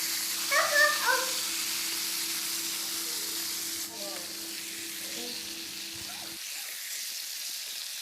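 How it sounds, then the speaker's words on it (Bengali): Chicken pieces sizzling in hot oil for biryani, a steady close frying hiss with occasional stirring, a low hum running underneath and brief faint voices early on. "আলুগুলো ভেজে তুলে নিয়েছি। এরপর চিকেনগুলোকে দিয়ে দিচ্ছি।"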